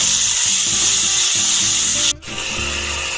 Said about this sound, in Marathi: तेलान कडेक टोमॅटो जे कट केलेले आसा ते घालता.